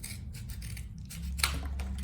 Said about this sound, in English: take the scissors